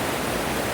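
Water trickles back into a turbulent river current at a campground, giving a short burst of constant broadband rushing that stays steady and moderately quiet, without speech.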